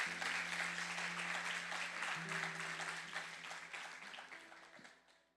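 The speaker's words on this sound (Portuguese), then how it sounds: "Você pode aplaudir ao Senhor?" Church congregation applauding the Lord during a sermon, a broad wash of clapping that starts strong and gradually fades away, with a faint sustained tone beneath.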